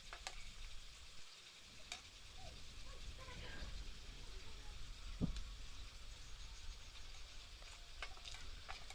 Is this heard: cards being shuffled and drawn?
no